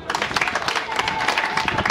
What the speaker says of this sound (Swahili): Piga makofi Dr. Samia Suluhu Hassan.